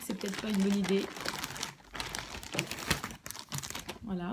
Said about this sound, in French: désolée pour le bruit du sac plastique